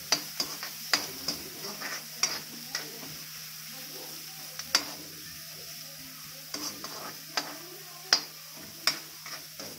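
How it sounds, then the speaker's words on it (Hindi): Green beans lightly sautéing in a pan for homemade vegetable soup: a soft steady sizzle runs throughout, broken by scattered sharp ticks and scrapes of a stirring utensil against the pan, fairly close and quiet with no talking. "बीन्स को भी हम ऐसे ही हल्का हल्का सौते करेंगे।"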